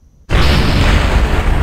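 A rocket blowing up in the video game Kerbal Space Program 2, a sudden loud blast after near silence that rolls on as a sustained roaring rumble.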